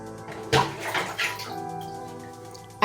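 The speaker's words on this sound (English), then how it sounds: "I'm going to rinse it out now." Water runs and splashes while shampoo is rinsed out of retwisted hair, a short close burst of pouring and slapping water followed by a softer steady flow.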